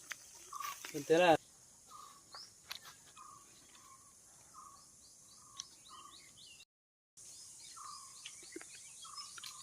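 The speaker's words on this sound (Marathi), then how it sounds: "बघा पक्षी आवाज देतात वेगवेगळे पक्षी आहेत आमच्या गावामध्ये" Several distinct bird calls repeat at intervals across an open outdoor setting, with one louder burst of chirping near the start and a brief dropout later.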